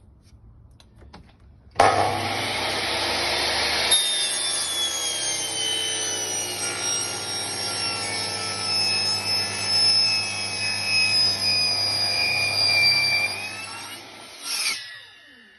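A saw cuts a 7-degree angle through a piece of wood for a pergola: one sustained, loud cut with a steady motor whine that runs about twelve seconds, then spins down and stops.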